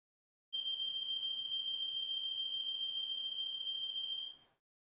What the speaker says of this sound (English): And don't mind that alarm.